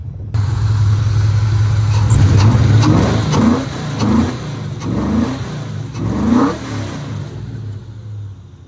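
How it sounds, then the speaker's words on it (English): A Nissan 240SX with a swapped VH45 V8 runs close by, its engine rumbling and revving in a series of rising surges before settling toward idle. "Sounds freaking good. I love this car."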